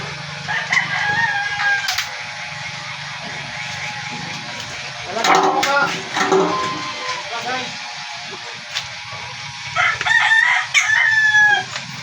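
Hens cluck and a rooster crows nearby, with a short burst of squawking midway, while a person talks over the birds.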